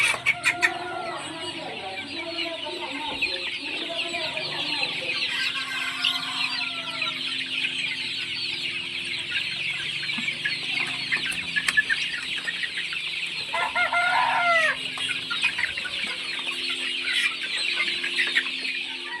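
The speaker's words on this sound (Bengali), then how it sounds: "ওদিকের ওপারেও মুরগি আছে" Several chickens cluck and murmur nearby in a continuous, busy chorus, with occasional louder squawks rising over the steady clucking.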